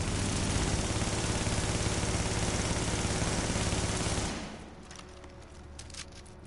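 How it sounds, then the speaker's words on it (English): A rapid burst of gunfire blasts loudly and continuously for about four seconds, then cuts off abruptly, leaving a low quiet background with a few faint ticks. "So watch the difference between these 10 shots."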